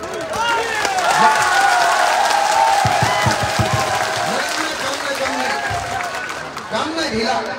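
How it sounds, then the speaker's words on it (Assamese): A large crowd at an election rally in Dhuburi applauds and cheers loudly, dense sustained clapping with shouting voices mixed in, close and continuous. "হাত তালি ইমান জোৰকে বজাব পাৰে"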